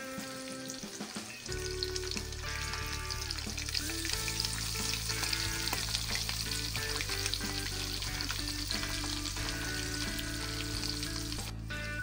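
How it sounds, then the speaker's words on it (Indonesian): Hairtail fish fry in hot oil, a loud steady sizzle and crackle that starts abruptly and continues without a break, with faint background music and no talking. "Pertama kita goreng dulu layurnya"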